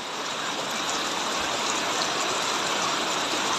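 Steady, loud rush of floodwater flowing through streets with no pauses, like a broad current pouring past close by.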